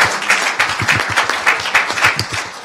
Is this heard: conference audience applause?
yes